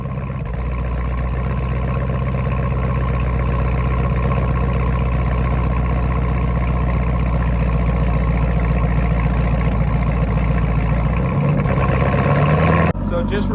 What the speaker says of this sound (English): Let's get a cold start on this thing.